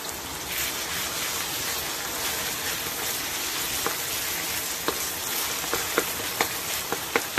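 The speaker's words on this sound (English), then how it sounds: "A little bit, just to sizzle that ginger and garlic off." Ginger and garlic sizzling in hot oil with leftover cabbage in a pan for a vegan curry, a loud, steady crackling hiss with scattered sharp pops throughout and no talking.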